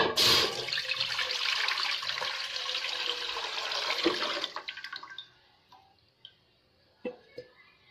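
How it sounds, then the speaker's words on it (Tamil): Water pours with a loud, continuous rush into an idli steamer pot for a Hyderabadi chicken mandi, running for about four seconds before stopping, followed by a few faint drips and metallic clinks. "இந்த இட்லி அண்டால ஊற்றிடுங்க"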